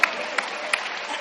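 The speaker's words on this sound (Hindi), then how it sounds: "एक बार तालियां वालियां बजा दीजिए।" An audience at a Holi poetry gathering in Kolkata applauds, with a brief, even wash of crowd clapping and a couple of sharper claps standing out.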